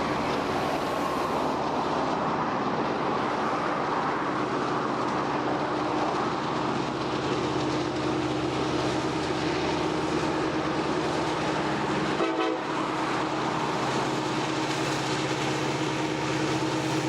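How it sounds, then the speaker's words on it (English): A long freight train from a mine in Western Australia's Pilbara rumbles steadily past, a continuous heavy roar of wagons on rails with a brief clank midway. "Here comes a train now from the mine."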